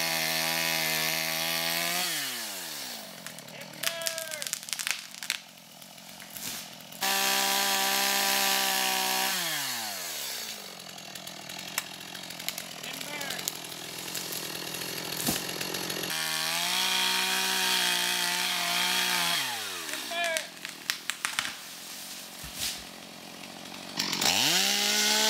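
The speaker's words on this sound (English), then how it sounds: "we just used our chainsaw and we cut down the trees" Chainsaws roar through trees being felled in the woods for a cabin foundation and road, with repeated revving up and down across long cuts, loud and continuous with brief idle dips between passes.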